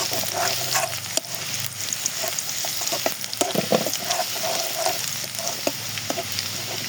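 Garlic sizzles and fries steadily in hot oil in a pan while cooking greens, a continuous close crackling hiss with occasional stirring clicks and no talking.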